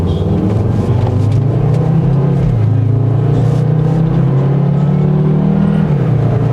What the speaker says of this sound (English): I'm gonna just kind of hit the gas for you